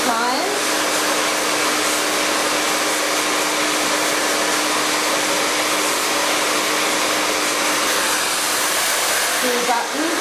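A hair dryer blows steadily while short hair is blow-dried into a wave, a loud continuous whooshing airflow with a faint tonal hum that runs unbroken for the whole stretch.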